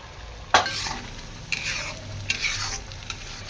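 Matar paneer gravy stirred in a pan: a spoon scrapes and knocks against the metal in a few distinct strokes over a soft sizzle, close and moderately loud, with no voices.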